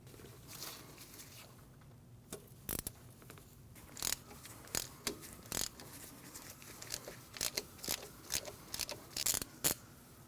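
A ratchet removing a 10mm bolt on a 2012-2016 Honda CR-V during front ABS sensor replacement: sharp metallic clicks and ticks, sparse at first then faster and more regular, close up over a low steady hum.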